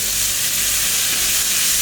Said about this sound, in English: go in with onions, thinly sliced onions,